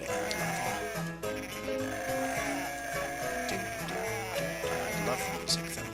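Sheep bleating in the Dreamcast game Cool Herders, mixed into steady piano-led game music that plays throughout.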